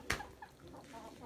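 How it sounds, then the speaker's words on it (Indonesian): A free-range village chicken gives a short, faint cluck or two, close by, with no talk over it. "Ayam kampung, cuy."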